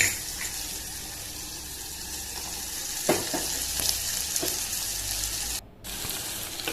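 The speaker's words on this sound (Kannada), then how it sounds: "ಈರುಳ್ಳಿ ಚೆನ್ನಾಗಿ ಕಮ್ಮಿ ಫ್ರೈ ಆಗುತ್ತಲ್ಲ, ಸೈಡಲ್ಲಿ ಎಣ್ಣೆ ಬಿಡುತ್ತೆ, ಅಲ್ಲಿ ತನಕ ಫ್ರೈ ಮಾಡ್ಕೋಬೇಕು." Onions sizzle steadily in hot oil with a ground paste of green chilli, curry leaf, cumin and salt for a potato palya, a continuous close frying hiss with brief stirring scrapes and a short dip near the end.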